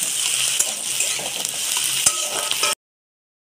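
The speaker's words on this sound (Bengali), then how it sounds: "টমেটো, এই মশলাটা আমি কষিয়ে নেব ভালো করে।" Tomato and spice masala sizzles steadily in a pan while a spoon stirs and scrapes through it with small clinks. The sound stays close and continuous, then cuts off abruptly.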